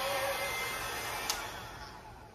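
A hair dryer blows steadily on poured acrylic paint, a loud close continuous whoosh that eases slightly toward the end, with no talk.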